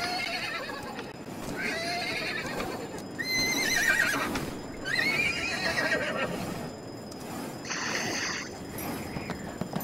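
A horse in a Roblox Wild West game gives several loud whinnies over steady clip-clopping hooves, close up, with game mechanism noises in between.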